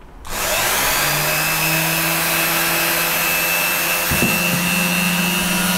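A handheld rotary engraver with speed control on its body starts up and runs steadily, a close, loud, high-pitched motor whine with a slight shift in pitch partway through.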